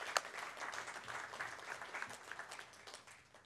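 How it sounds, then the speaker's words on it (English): Soft, distant-sounding applause from an evening event audience thanking the sponsors, an even patter of many hands that carries on steadily before easing slightly toward the end. "Please give them all a round of applause for their generosity"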